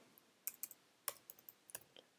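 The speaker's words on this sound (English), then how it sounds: "but I'll just type it out." Typing on a computer keyboard, a quiet, close burst of irregular key clicks, about a dozen taps spread unevenly with short pauses, alone in a quiet room.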